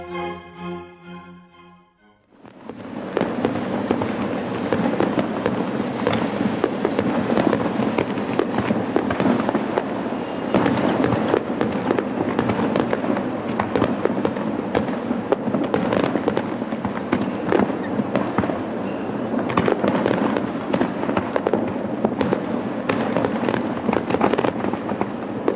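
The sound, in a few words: fireworks exploding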